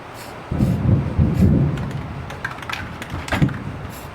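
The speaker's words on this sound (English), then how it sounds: "it is thundering really bad and I think the rain's about to come back with a vengeance" Distant thunder rumbling low and heavy during an outdoor Jeep rear bumper job, rolling for a couple of seconds, mixed with sharp nearby clicks and knocks.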